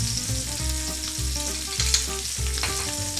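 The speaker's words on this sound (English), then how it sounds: "So we get a little bit of oil in, and we can get our spices in then." Cumin, coriander, chilli and garlic sizzle steadily in a little hot oil in a pan, a continuous close crackle with faint stirring and no voices.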